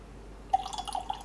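Small drops of water fall into a glass of Wormtub 10 Year Old Speyside single malt whisky, a quick run of faint, close plinks and drips after a quiet start.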